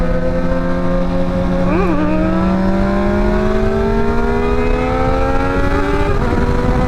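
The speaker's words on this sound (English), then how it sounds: "That guy's over here doing wheelies?" A motorcycle engine drones steadily and loud throughout, pitch rising gradually with a brief rev blip partway and another near the end, as a rider pulls wheelies nearby.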